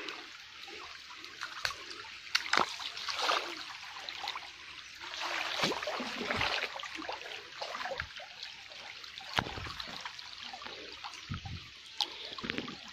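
A flooded stream pours over a submerged waterfall, a faint, steady rush of flowing water with small splashes and gurgles throughout.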